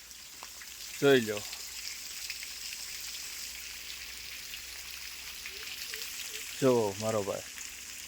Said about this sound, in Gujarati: આ આપણી ગાડી છે અને જુઓ આ રીતે ગાડી ઊંચી કરી અને નીતરે પાણી